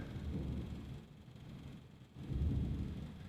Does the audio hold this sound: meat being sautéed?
no